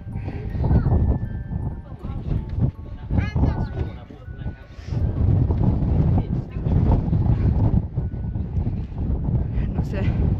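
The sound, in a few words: wind at hilltop viewpoint, Coldstones Cut, Nidderdale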